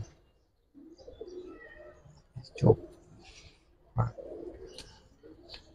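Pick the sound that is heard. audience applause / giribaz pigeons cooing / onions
giribaz pigeons cooing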